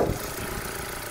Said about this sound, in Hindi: इंजन की साउंड देखोगे ना सर